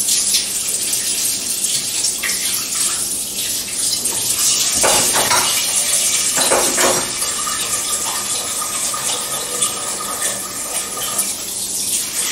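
Water runs steadily from a kitchen tap for hand washing during cooking, a continuous close hiss with a few splashy disturbances as hands move under the stream.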